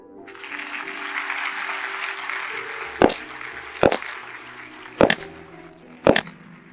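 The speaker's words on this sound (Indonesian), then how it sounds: "Mari kita beri tepuk tangan meriah untuk pengantin wanita kita" At a wedding, guests applaud the bride in a steady, even patter of clapping that fills the room. Four louder, sharp bursts of claps stand out toward the end.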